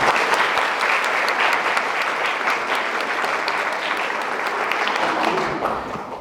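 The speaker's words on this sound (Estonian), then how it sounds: "Seega palun neile teha veel ühe väga suure aplausi." An audience gives a big round of applause to a grandmothers' folk dance group at the troupe's 35th anniversary concert, dense and loud, holding steady before thinning out toward the end.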